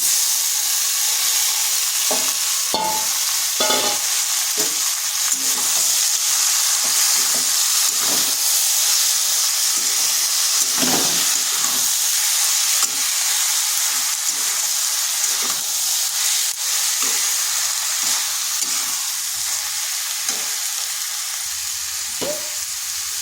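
Marinated cabbage sizzles loudly against fried potatoes in a hot pan, a steady close hiss of frying with occasional stirring scrapes and clicks throughout, with no voices.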